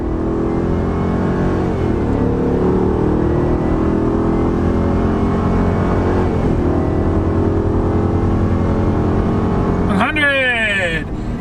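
A 2020 Ford F-250 with a gas V8 accelerates hard from a standing start while towing 9,000 pounds, its engine droning loudly and climbing steadily through the gears. A voice talks over the engine noise.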